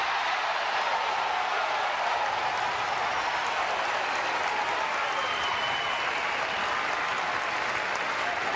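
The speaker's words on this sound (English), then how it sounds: "Leanne White is trying to quell the crowd, but they're not going to be silenced." A tennis crowd at a match between CiCi Bellis and Zarina Diyas cheers and applauds, a dense, steady roar of clapping that stays loud and even from start to finish.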